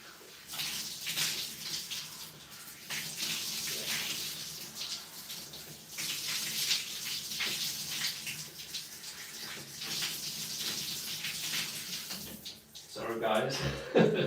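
Shower water runs steadily during a standing hair wash, a continuous close hiss and splash, with a person talking over it and a brief clatter at the end.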